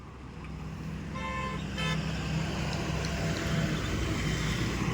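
A car creeping slowly forward out of a garage gives a low, steady engine hum close by, with a few brief tonal beeps near the start and no voices.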